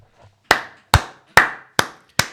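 One person claps slowly and deliberately, five sharp, close, separate claps spaced roughly half a second apart, each ringing briefly before the next, with no voices.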